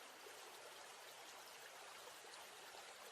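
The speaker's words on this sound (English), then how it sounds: "You can still hear the water lapping outside" Water laps and trickles outdoors as faint, steady ambient noise: a continuous soft hiss of flowing water with no voices.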